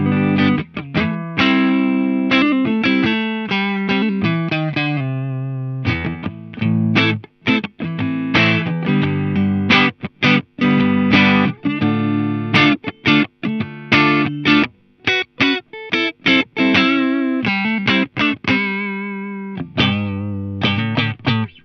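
Valiant Mercury electric guitar played clean through a Lionheart pedalboard amp on the neck single-coil pickup, a bright, spanky Strat-like tone in loud, busy chordal and single-note phrases with short gaps, with no talking.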